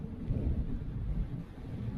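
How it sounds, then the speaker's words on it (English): Low, rumbling wind buffets the microphone steadily while riding a folding e-bike up a steep hill, a dense roar with no voices. "God, it's getting windy."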